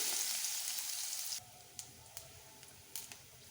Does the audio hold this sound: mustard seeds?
yes